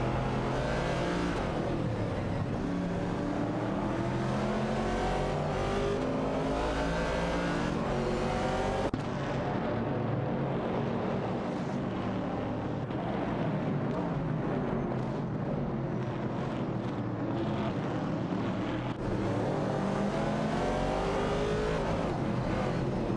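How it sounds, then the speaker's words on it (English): Race cars from a simulated racing video game, including a Ford Falcon, a Mercury Cougar and a Chevrolet Camaro '69, roar and rev steadily throughout, with engine pitch shifting as cars pass and jostle for position, loud and continuous with no talk. "Edelbach and Uyujon 7, in a Ford Falcon, are fiercely competing with Wayne Tre 94 and Chieftain Axe in a Mercury Cougar for the 15th position."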